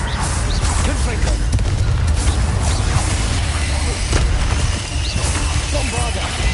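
Blasting Confringo spells in Hogwarts Legacy erupt in dense, continuous booms and crashing impacts, a loud sustained barrage of fiery explosions with a voice speaking throughout.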